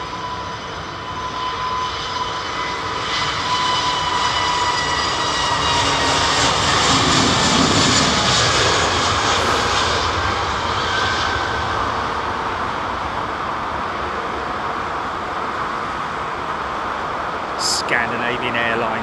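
A Scandinavian Airlines jet at London Heathrow gives a broad engine roar that swells and slowly fades, heard from a distance with a faint high whine near the end.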